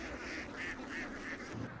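Ducks quack repeatedly in a steady series of nasal calls, moderately distant, over a low background rumble, while feeding on golden apple snails and leftover dry plants in a harvested field.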